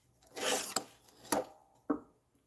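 Carpet tape is scraped off a wooden worktop in three rasping strokes, the first long and the last two short and sharp, close by and quiet.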